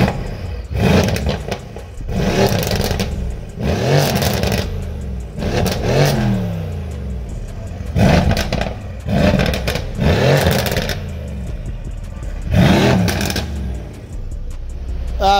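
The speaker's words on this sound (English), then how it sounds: "let's hear the AMG" A Mercedes-AMG car's exhaust revs hard in repeated loud bursts, each blip roaring up and dropping back, with engine rumble continuing between the pulses at close range.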